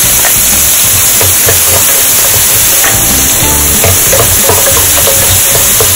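Green chili and onions frying in a pan for mushroom gravy, a loud, continuous sizzle and hiss with irregular crackles and pops throughout.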